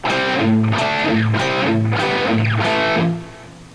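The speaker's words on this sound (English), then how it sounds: "Alright, and that's the whole riff, and then it just repeats." A distorted electric guitar plays a chugging riff in several repeated bursts, loud and close, then rings out and fades at the end.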